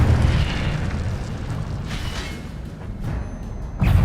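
Incendio fire spell in Hogwarts Legacy, a roaring, rumbling burst of flame that trails off and then flares up again loudly at the end.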